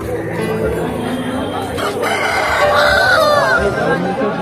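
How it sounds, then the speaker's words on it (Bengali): Chickens and roosters at a poultry house in a Sundarbans market, with a rooster crowing and hens clucking close by amid steady market bustle and a voice speaking in the background. "ভিতরে দেখি হাঁস মুরগির একটা"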